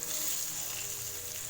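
Masala sizzling steadily with scored boiled eggs in a pan over a low flame, a soft continuous frying hiss with no talk.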